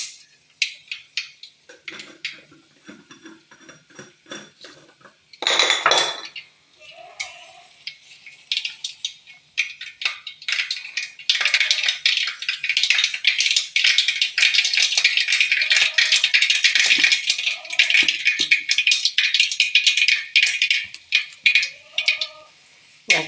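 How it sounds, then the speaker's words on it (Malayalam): Mustard seeds pop and splutter in hot cooking oil, with scattered crackles that build into a dense, continuous sputtering burst before thinning out again. "കടുക് പൊട്ടി തീർന്നു"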